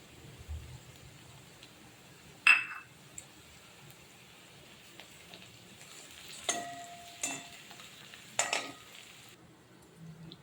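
Garlic going into a hot frying pan while okra fry is being made, a soft continuous sizzle broken by a few sharp clinks and scrapes of a utensil against the pan, close and quiet.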